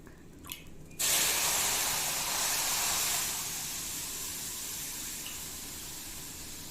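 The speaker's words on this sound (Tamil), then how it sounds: "நான் இப்போ 3 கப்புமே பால் தான் சேர்த்துக்க போகிறேன்" Three cups of milk pour into a pan, making a loud, steady rushing splash that holds for several seconds and then eases slightly, preceded by a brief soft clatter.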